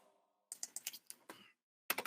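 Stock tickers being typed on a computer keyboard: two quick bursts of close, crisp keystrokes separated by a short pause, with a faint hum beforehand and no talking.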